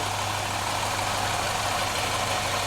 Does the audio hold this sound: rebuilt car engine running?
yes